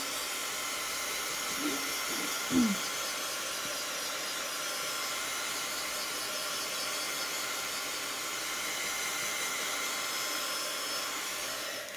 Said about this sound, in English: I'm gonna just do a little bit of heat set just to speed up the dry time.